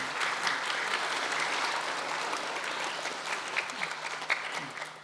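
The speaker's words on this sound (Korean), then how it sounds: "국회의장님께 큰 박수 부탁드립니다." Applause from an audience for the National Assembly Speaker at the opening ceremony of a children's national assembly plenary session, a steady, dense clapping that holds evenly throughout and tapers slightly near the end.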